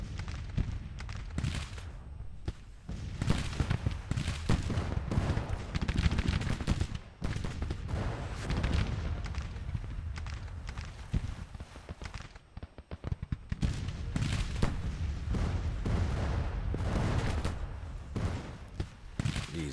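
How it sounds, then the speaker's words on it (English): Artillery and massed gunfire in a Civil War battle video game, near continuous booming volleys and crackling musketry with loud bursts that dip briefly twice before resuming. "Oh, my artillery is opened up."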